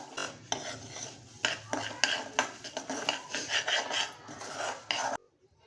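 Moong dal is dry roasted in a kadhai while a spoon stirs it in quick, repeated rasping scrapes with light metallic clinks. The sound is close and fairly soft, and it stops suddenly at the end.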